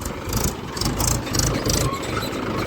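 A tractor engine runs steadily at idle, a deep continuous rumble with a faint rattle, fairly close and loud throughout.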